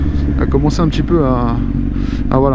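Kawasaki Z800 four-cylinder motorcycle being ridden, a low steady engine rumble with wind noise running under someone talking close to the microphone throughout.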